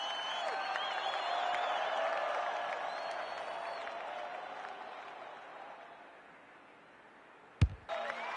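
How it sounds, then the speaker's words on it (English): A stadium crowd in the AFL 26 football video game roars and applauds steadily after a potential match-winning kick inside 50, the broad wash swelling early then easing, with a sharp crack near the end. "The crowd noise tells you all you need to know."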